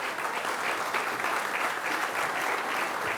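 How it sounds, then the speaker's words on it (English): Dense, sustained applause from a press conference audience at FIU Athletics, an even roar of many hands clapping throughout without a break. "please clap for that"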